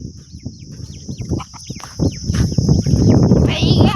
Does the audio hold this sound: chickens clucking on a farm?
yes